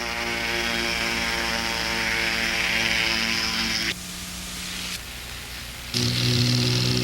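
A powered paraglider engine runs steadily through a flight, with a loud constant propeller drone and strong harmonics. It eases off twice, a brief dip near the middle and another soon after, then returns at full throttle. No one speaks.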